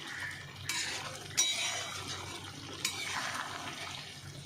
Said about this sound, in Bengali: পনিরটা একটু ফুটে যাক ঝোলের সাথে